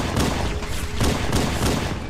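Rapid bursts of gunfire ring out in the Halo: Combat Evolved video game, loud and dense, with heavy repeated shots throughout the short stretch.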